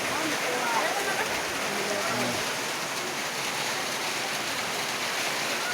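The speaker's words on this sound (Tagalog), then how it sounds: "Grabe lakas ang ulan" Heavy rain pours in a loud, steady hiss with no letup, close and broad, with faint talk underneath.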